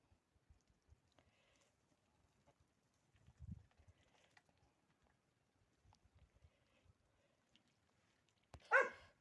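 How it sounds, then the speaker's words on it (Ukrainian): After a quiet stretch of soft shuffling and scattered thumps, a dog lets out one sharp, loud bark close by. "Боїться, бачите, собака гавкає."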